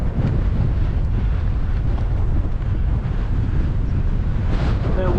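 Strong wind belts up a harbour in the Port Hills, a loud, steady roar buffeting the microphone throughout with no pauses.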